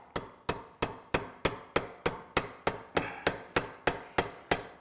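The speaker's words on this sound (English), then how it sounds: "So we're going to take a new bushing. Just going to give it a little tap." Regular, evenly spaced hammer taps drive a new clutch weight bushing into place, about a dozen sharp metallic knocks in steady rhythm, close and alone.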